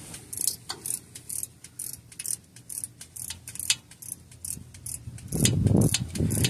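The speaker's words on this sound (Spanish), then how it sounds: "Si tienen una llave con matraca, van a batallar un poquito menos." 10 mm ratchet wrench loosening a bolt on a 2001 Toyota Sequoia 4.7 transmission, rapid repeated ratcheting clicks in short bursts, close and clear, ending with a louder rustle of handling.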